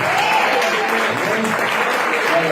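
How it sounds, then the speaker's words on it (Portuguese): A church congregation claps steadily throughout, a dense sustained wash of applause while a voice speaks over it. "aplauda Jesus e dê glória a Deus."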